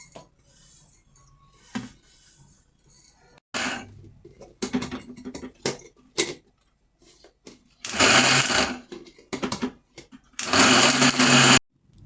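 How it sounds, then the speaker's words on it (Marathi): An electric mixer grinder grinds coconut and almonds to a coarse texture in a kitchen, running in short bursts and then two longer loud pulses, with clattering and pauses between them. "आता आपण आहे ना खोबरं आणि बदाम ही मिक्सरच्या भांड्यात टाकून आहे ना बारीक करून घेऊ"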